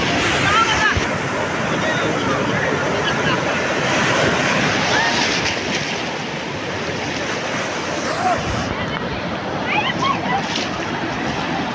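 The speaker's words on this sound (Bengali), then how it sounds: "সমুদ্রের বিশাল বিশাল ঢেউ আসে" Continuous roaring surf of large ocean waves breaking on the shore at Kuakata beach, with gusts of wind buffeting the microphone.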